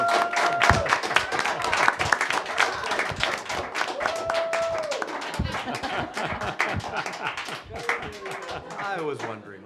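Applause and scattered clapping at a town select board meeting, a burst of hand claps with chuckles and voices talking over it before it thins out.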